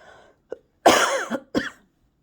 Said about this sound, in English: I'm glad the cough is breaking up because that needs to be broken up